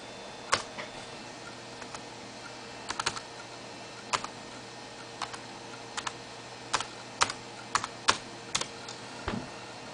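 Typing on an external computer keyboard for a Fujitsu Stylistic LT 500c tablet, with scattered clicking keystrokes in short bursts and pauses, close and fairly quiet over a low steady hum.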